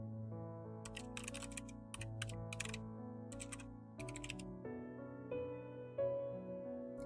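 Quiet bursts of typing on a computer keyboard, clicking in short irregular runs with pauses between them, heard close and without talk.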